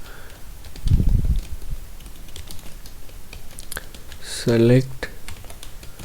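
Someone types a database query on a computer keyboard, with scattered, irregular keystroke clicks and a brief spoken word near the end.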